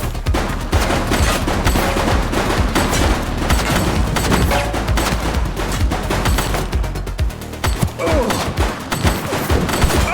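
Sustained gunfire in The Precinct, a police video game: dense bursts of rapid shots and heavy reports pile up continuously for the whole stretch, loud and close, with a brief lull near the end before more shots.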